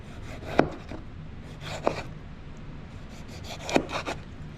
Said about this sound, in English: Now I'm going to go ahead and cut the tomatoes.